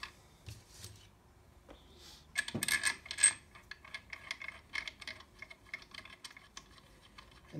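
Bolts being fitted into a front differential case: close metallic clicks and small clinks, sparse at first, then a busier run of light taps and rattles.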